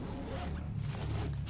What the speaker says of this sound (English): The mid compartment is your main storage compartment and uses a number 10 zipper